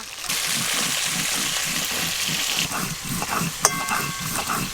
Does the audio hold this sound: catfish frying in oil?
yes